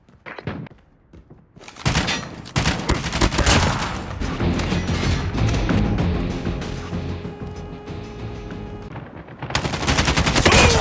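Rapid bursts of automatic gunfire in the Call of Duty Mobile video game, loud and sustained, with a short pause near the start and a heavier volley at the end.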